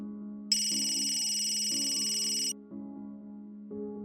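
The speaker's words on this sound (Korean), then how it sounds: "때마침 여자친구에게서 전화가 왔다" A phone rings with an incoming call at home, a bright electronic ringtone sounding steadily for about two seconds, followed by a low repeating ring pattern that pulses in short bursts until the end.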